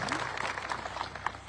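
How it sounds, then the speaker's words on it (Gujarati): Crowd clapping at a farmers' rally meeting in Gadhad, Surendranagar, a steady wash of applause filling the whole moment, moderately distant and fairly faint, with no voice over it. "જોરદાર તાળીઓથી એને આપણે વધાવીએ"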